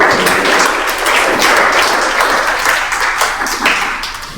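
A church congregation applauds and cheers to acclaim Jesus, a loud, steady wash of many hands clapping together that carries through without a break.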